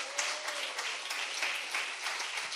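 A church congregation applauds, with continuous moderate clapping from many hands that sounds somewhat distant and fills the room without talk.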